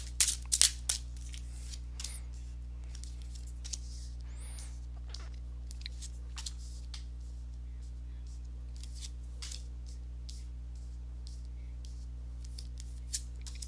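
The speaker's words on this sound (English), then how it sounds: "let me go ahead and give these cards a shuffle" Tarot cards are shuffled in a quiet room over a steady low hum, giving soft, irregular papery riffles and taps, a little louder at the start.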